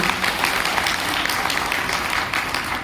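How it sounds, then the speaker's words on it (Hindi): Seminar attendees at a business plan presentation clap together, a continuous crackle of many hands with faint pulses, sustained for a few seconds without speech. "एक जोरदार तालियां मुझे इसके लिए दीजिए।"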